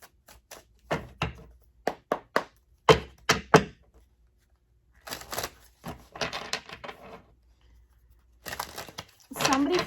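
A deck of tarot cards is shuffled stiffly, giving uneven bursts of papery slaps and riffles separated by short pauses, close and fairly quiet.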